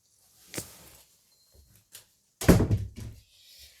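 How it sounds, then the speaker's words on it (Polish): A room door is shut with a few separated knocks and thuds, then a louder solid slam with a brief rattle, close by in an otherwise quiet room. "Zamykałem tylko drzwi, widzowie, do pokoju."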